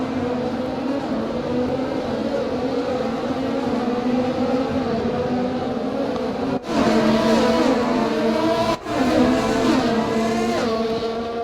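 Formula 1 car in the F1 2020 racing game driving across grass at the Australian Grand Prix, engine droning steadily and loud throughout, with two brief dips followed by rising revs near the end.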